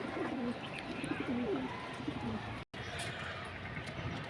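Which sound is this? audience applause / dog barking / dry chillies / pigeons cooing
pigeons cooing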